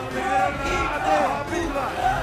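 Crowd roaring and cheering at a Battle of the Nations 5 vs 5 armored fight, a loud continuous swell of many voices with rising shouts.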